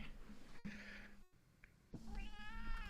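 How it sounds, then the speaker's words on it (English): A domestic cat meows twice indoors, a short close call followed by a longer, drawn-out wavering meow, with light room noise between them. "I have a cat."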